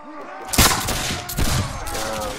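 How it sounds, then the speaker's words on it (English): Massed rifle volleys crash out in a period battle in the Caribbean! game, two loud ragged bursts of overlapping musket shots about a second apart, then a lingering rumble of scattered fire. "So, your rifle fire, it works kind of like the Napoleonic ones."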